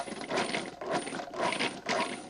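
A food processor pulses frozen half-inch butter cubes into pie crust dough, giving four quick rhythmic churning bursts of chopping and rattling at close range.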